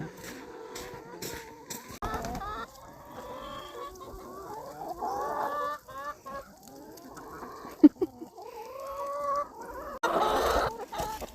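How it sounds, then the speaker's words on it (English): Several chickens cluck and chatter close by in irregular bursts at an alfalfa field, with a few louder squawks and rustling mixed in. "So the chickens get a piece of the alfalfa field."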